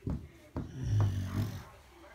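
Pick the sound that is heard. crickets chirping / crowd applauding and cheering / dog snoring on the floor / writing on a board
dog snoring on the floor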